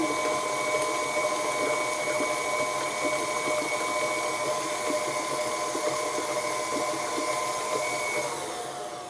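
An electric mixer runs steadily while blending dry cake mix for a shelf-stable jar mix, a continuous motor whine with a faint rattling texture, fairly loud and unbroken, easing slightly near the end.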